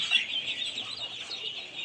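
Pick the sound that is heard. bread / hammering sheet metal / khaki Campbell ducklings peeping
khaki Campbell ducklings peeping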